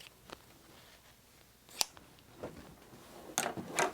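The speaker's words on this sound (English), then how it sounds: "All right, I'll just cut off this excess here." Scissors snip through excess fabric trimmed from a reverse strip-pieced quilt block, giving a few sharp, close cuts spaced out against a quiet background.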